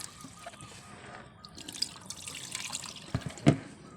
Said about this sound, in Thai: ล้างให้สะอาดอีกครั้งนะคะ